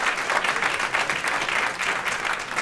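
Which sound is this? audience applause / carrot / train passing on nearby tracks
audience applause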